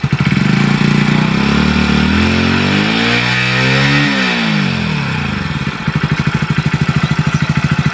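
A motorcycle engine revs up and eases back down, pitch rising and falling, then settles into a loud, close, chugging idle.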